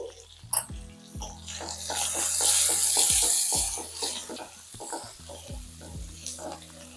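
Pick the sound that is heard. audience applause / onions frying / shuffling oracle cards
onions frying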